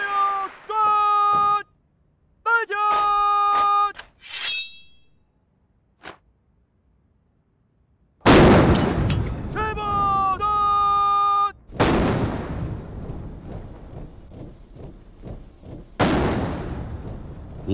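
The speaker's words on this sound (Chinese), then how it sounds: "56门礼炮， 70响轰鸣" Ceremonial artillery salute at the 2019 National Day celebration in China, 56 cannons firing 70 rounds: heavy booms go off one by one with long rumbling echoes between them, while a brass band plays in the first half and later between the blasts.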